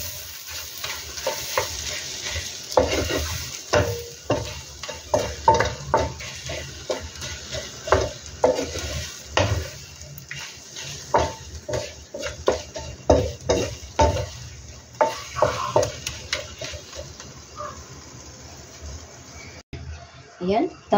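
Shrimp frying in a salted egg sauce, with a steady sizzle and repeated stirring scrapes that come in rhythmic bursts throughout, and a voice talking now and then over the cooking.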